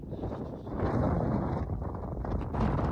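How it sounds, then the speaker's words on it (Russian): Strong wind in the Andes buffets the microphone in a continuous loud roar, gusting stronger around the middle and again near the end, with no other clear sounds. "еще ветер высокий сильный"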